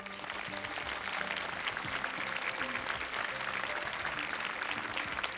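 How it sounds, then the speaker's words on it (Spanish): A studio audience applauds a guest on a Spanish evening variety show, steady clapping throughout with music and voices mixed underneath. "Pues vamos a darle un fortísimo aplauso a Beselch."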